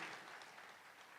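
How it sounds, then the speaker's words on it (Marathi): An audience at a political event with Chief Minister Devendra Fadnavis in Thane applauds in a brief, steady, even burst of clapping, heard faintly and without speech. "जोरदार टाळ्या व्हायला पाहिजे एवढ्यासाठीच"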